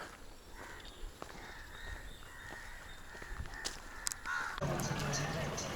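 Crows caw now and then outdoors in Nepal, a few harsh calls standing out over a bed of insect chirring and faint background noise.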